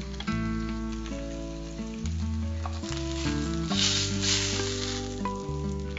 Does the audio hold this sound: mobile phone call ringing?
no